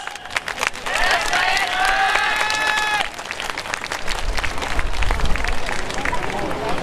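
An outdoor crowd at a yosakoi dance festival claps steadily along to a performance while a loud voice and music tones carry over the rhythmic clapping and crowd babble.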